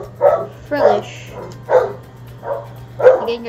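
Repeated close barks from a dog in a home, five separate yaps spaced irregularly over a low steady hum during a card unboxing.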